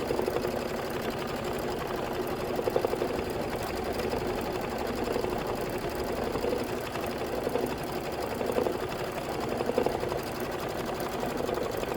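A sewing machine stitches a Kimberbell quilting project at about 1,050 stitches per minute, giving a loud, steady, even whir with a fast mechanical patter that runs continuously without any voices.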